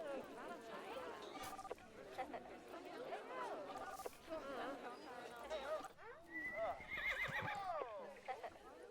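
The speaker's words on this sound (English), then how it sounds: "for the zebra neigh." A zebra's neigh and whinny with hoof clip-clops in the game Planet Zoo, over a busy game soundscape and background chatter, steady and moderately loud.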